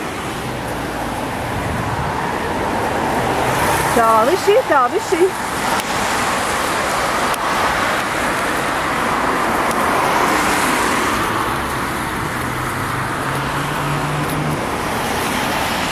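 Cars passing in street traffic make a steady, fairly loud roadway rumble and hiss that swells and fades, with people talking over it.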